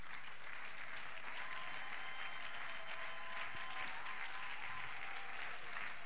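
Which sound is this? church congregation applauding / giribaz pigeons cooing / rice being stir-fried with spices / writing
church congregation applauding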